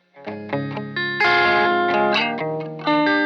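Electric guitar fed through a Jackson Audio Bloom compressor, EQ and boost pedal plays a brief run of even, sustained notes and chords up close with no talking.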